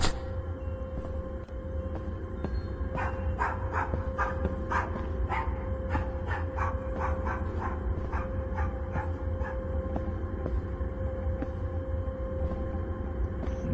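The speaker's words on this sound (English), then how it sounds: "What's the dog doing?" A dog in the Fortnite video game barks in a quick run of short yips and woofs, steady and moderately close, over a constant game background hum.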